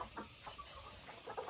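Homestead hens cluck softly in short, scattered bursts, faint and somewhat distant, over a low background hiss.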